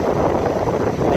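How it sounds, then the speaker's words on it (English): Steady southeast wind on Hatteras Island after Hurricane Florence rushes and buffets against the microphone in a continuous low roar. "It's still pretty rough, still pretty windy."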